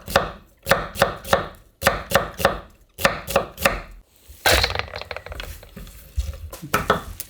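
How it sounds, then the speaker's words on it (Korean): A knife chops vegetables into thick strips for kimchi, landing in quick, evenly spaced bursts of sharp, close cuts on a board, then turning into a rougher rustle of scraping and handling. "이제 굵은 채를 썰어주세요"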